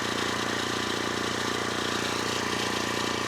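A tractor engine running steadily at idle, a continuous close mechanical drone with an even throb and no talk.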